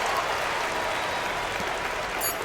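A home crowd roars and applauds steadily in an NBA 2K25 basketball game, a dense, continuous wash of cheering that stays loud and even throughout with no voices standing out.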